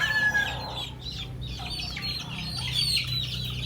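Chickens cluck steadily with thin peeping chick chirps mixed in, close by over a low constant hum.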